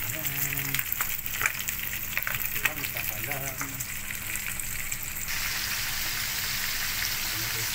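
Food frying in a pan at an outdoor cooking spot in Abu Dhabi, a steady loud sizzle that runs throughout, with someone speaking over it for the first few seconds.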